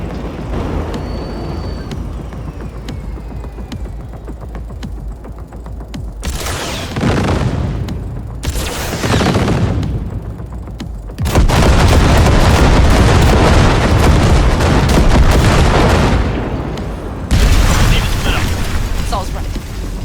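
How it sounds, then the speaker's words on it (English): Huge booming blasts blow open a gate in Cyberpunk 2077, arriving as several loud, rumbling explosions separated by short lulls, with voices talking in between. "there's a monster gate that needs to be blown open"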